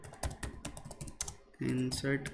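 Keys on a computer keyboard clatter in quick irregular taps while data is entered into a PostgreSQL table, with a brief steady tone sounding near the end.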